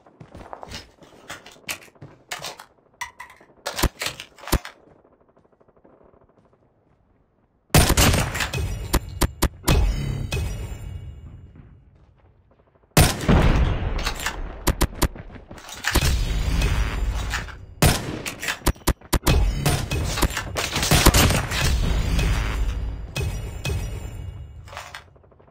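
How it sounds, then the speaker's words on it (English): Rapid automatic gunfire from a sentry gun in the Call of Duty Mobile video game, loud dense bursts with thumps and booms, separated by a quiet gap and a short lull. "Friendly sentry gun deployed."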